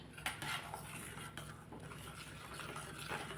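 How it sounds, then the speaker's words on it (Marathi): A spoon stirs gram flour paste into a sprouted moth bean curry for Jalgaon-style rassa vada, making a continuous close scraping and clinking against the pot with a few sharper knocks. "आता ते मी हा घोल याच्यामध्ये मिक्स करते आणि चांगलं कालवून घेते"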